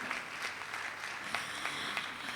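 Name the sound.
applause for Preetha Majumdar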